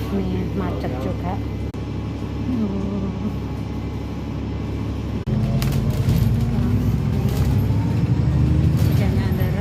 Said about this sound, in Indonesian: Ini lagi ada di dalam bis sekarang mau pulang.